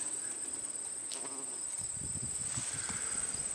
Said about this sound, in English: Bumblebee.